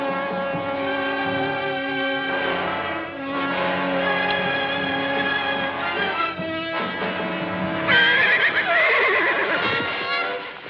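Horse neighs and whinnies repeatedly in a Western film scene, loud and close, with a long high whinny toward the end and faint hoof clip-clop beneath.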